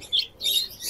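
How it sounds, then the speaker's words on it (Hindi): Small caged birds chirp in short bright bursts at a bird shop in a busy bazaar, the calls coming close together and fairly loud, with no voices over them. "ये देखें ये किस तरह की चिड़िया है"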